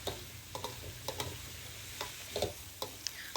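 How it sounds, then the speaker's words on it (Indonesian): Green beans, carrots and shrimp are stir-fried in a pan with oyster sauce and chili sauce: a quiet steady sizzle, broken by short scraping and clinking stirs that come every half second or so, with no speech. "kita tumis kembali"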